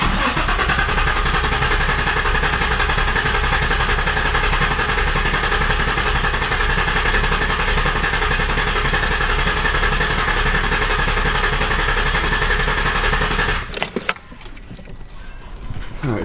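A car engine cranks and catches after an oil cooler install, then settles into a steady, loud idle that drones on for most of the stretch before a brief clatter of handling noise near the end.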